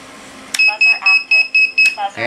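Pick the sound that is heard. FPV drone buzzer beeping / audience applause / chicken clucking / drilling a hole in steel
FPV drone buzzer beeping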